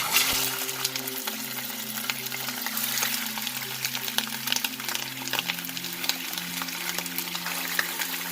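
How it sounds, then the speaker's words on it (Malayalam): Plain, unmarinated washed chicken pieces fry in hot oil for Karachi chicken, giving a loud, continuous sizzle and crackle with occasional stirring clinks and a low steady hum underneath. "ചിക്കൻ നമുക്കൊന്ന് നല്ലോണം എണ്ണയിലിട്ടൊന്ന് നല്ലോണം ഒന്ന് ഫ്രൈ ചെയ്യാം."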